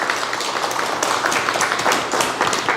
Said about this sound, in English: Let's give a round of applause for Bill.